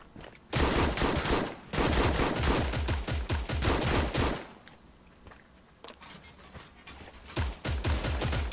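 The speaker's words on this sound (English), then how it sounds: "Bring out the gun." Automatic gunfire in the video game Creative Destruction rattles out in loud, rapid, sustained bursts, pausing and then resuming with shorter volleys.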